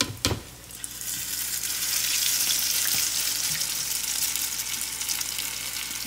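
Grated potato latkes frying in a hot pan, a loud continuous sizzle and crackle after a sharp knock at the start, with faint pressing and scraping under the hiss.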